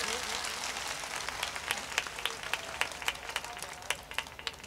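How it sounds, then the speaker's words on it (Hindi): Fairly faint audience applause at a poetry recitation gathering, steady scattered clapping with a few sharper individual claps standing out toward the end. "जरा एक बार जोरदार तालियां बजा दीजिए"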